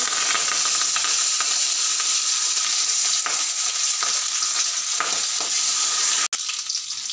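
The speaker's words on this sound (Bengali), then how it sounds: "কড়াইতে তেল গরম হয়ে গিয়েছে এইবারে আমি মাছগুলো ছেড়ে দেব" A loud, continuous sizzle of rohu-type fish frying in hot mustard oil in a kadai, steady throughout with a brief break near the end.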